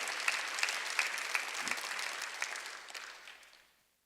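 A church congregation claps during a Sunday worship service, with dense, steady applause and a few sharper claps standing out, before it fades away to silence near the end.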